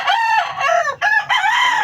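Rooster crowing continuously among clucking chickens in a backyard flock during the rainy season, a loud, close, drawn-out crow with harmonic warble and no talking.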